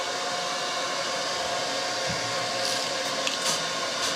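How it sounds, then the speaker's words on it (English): A hair dryer runs steadily as a steady broadband whoosh to dry a freshly cleaned printmaking plate, held at a distance, with no voices and only small flutters in the airflow. "I can use the dryer from a distance"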